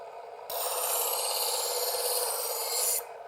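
Smith's Diamond Edge electric knife sharpener grinding a knife blade, a bright continuous rasping whir that starts abruptly, holds steady for about two and a half seconds, then cuts off, heard up close and alone.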